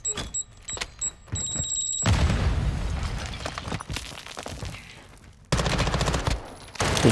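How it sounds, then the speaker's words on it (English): A Claymore mine blast and gunfire in Call of Duty: Warzone 2.0, with sharp shots and interface beeps followed by a loud sustained burst of explosion and rapid fire, then another heavy volley near the end. "He tries to hit me with a Claymore."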